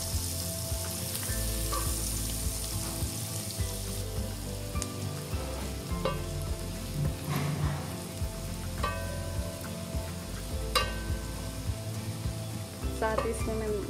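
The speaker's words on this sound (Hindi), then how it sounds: "वाइट अनियन डालूंगी। इसको 1-2 मिनट सॉफ्ट होने तक पकाएंगे।" White onion sizzles steadily in a pan as the base for mushroom soup, a close, continuous crackle with brief stirring clinks and a faint voice now and then.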